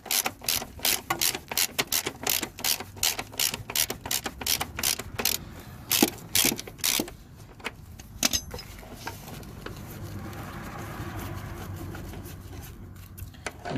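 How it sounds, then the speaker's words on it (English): A ratchet winds a bolt out of the rear suspension of a VW T4 van, clicking rapidly and repeatedly up close for about eight seconds before the clicks thin out and give way to steady rubbing noise. "And just wind this bolt"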